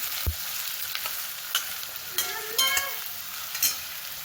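Tomato, onion and green chilli sautéing in oil in a pan for a methi bhaji, a steady sizzle broken by sharp scrapes and clinks of the stirring spoon against the pan, close up with no talking.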